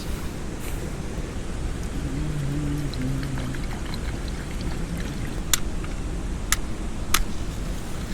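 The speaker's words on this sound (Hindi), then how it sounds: "इसमें थोड़ा पानी डालना बस।" Water pours into a pressure cooker holding five potatoes outdoors in the rain, a soft steady splashing under constant rain noise, with a few sharp clicks near the end.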